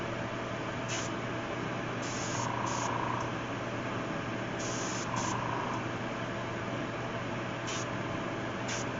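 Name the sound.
paint spray gun nozzle spraying paint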